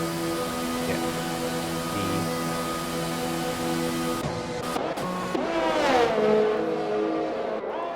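Race cars pit at Monza in a racing video game, their engines droning loudly and steadily, then one car revs and rises in pitch as it passes close by, with no talk.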